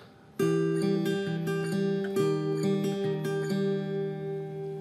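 Fingerpicked acoustic guitar plays a slow pattern of plucked notes, bass notes changing under ringing upper strings, clear and close with no voices.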